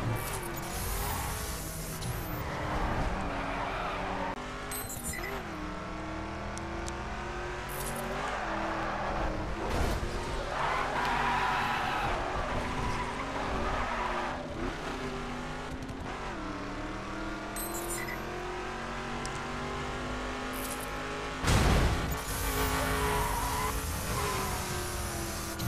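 Cars race and rev in The Crew video game, engines droning steadily with rising and falling pitch sweeps throughout, punctuated by a few sharp skids and impacts, loud and continuous with no talk.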